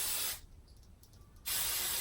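Two close, loud hisses from a hairspray can sprayed underneath lifted short hair, one short burst and then, after a brief pause, a second burst that runs to the end.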